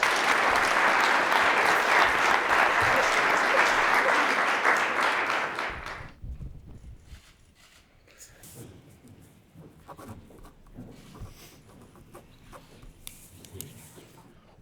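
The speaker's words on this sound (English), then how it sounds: "Let's give him a big round of applause." A crowd applauds a high school athlete signing a college football letter of intent, loud sustained clapping for about six seconds before fading to quiet room noise with faint scattered sounds.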